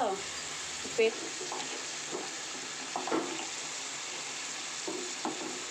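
A kilogram of chicken fries in a pan for curry, giving a soft, steady sizzle with occasional stirring scrapes and small pops, fairly faint.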